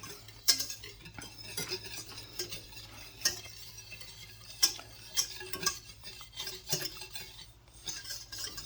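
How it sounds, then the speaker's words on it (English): Teriyaki sauce ingredients melt in a pan while being stirred, with soft, quiet scraping and occasional light utensil taps on the pan under a faint background sizzle. "just until it starts to melt. You can already see it glistening. It doesn't take long. And just keep stirring it."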